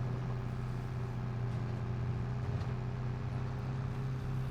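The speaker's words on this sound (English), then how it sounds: "we're going to get to be plowing with our tractor here" A tractor in Farming Simulator 22 pulls a plow, its engine droning at a low, steady hum with no change in pitch or rhythm, quiet and unbroken throughout.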